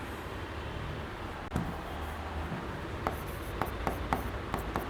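Marker or chalk scratches across a board as given values for a similar-triangles geometry problem are written down, a run of short, quiet strokes in quick rhythm over steady room hum.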